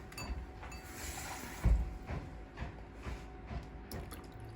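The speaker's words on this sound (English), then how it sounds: "I'm going to put our eggs into a small saucepan, not too big, and we're going to add the water to it" Water is added to a small saucepan holding eggs, making soft, uneven splashes and drips with one stronger burst near the middle, faint against a quiet kitchen background.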